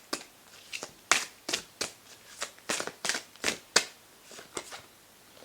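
Oracle cards are shuffled by hand in a quiet room, a run of about a dozen crisp riffling bursts in an uneven rhythm, close and fairly soft, with no talking.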